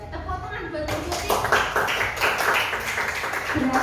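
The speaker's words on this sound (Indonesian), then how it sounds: "Tepuk tangan buat Bu Tuti." Clapping from an audience of teachers at a school presentation, following a moment of speech, then scattered claps building into a moderate burst under some background voices.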